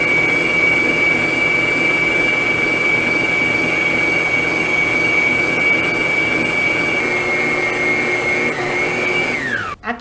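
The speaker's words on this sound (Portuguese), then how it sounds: "eu vou ligar a batedeira na velocidade mínima e vou acrescentando aos poucos a farinha de trigo" An electric mixer runs at its lowest speed through cake batter, a loud close steady whine with a constant motor pitch that holds unbroken for about nine seconds, then winds down and stops.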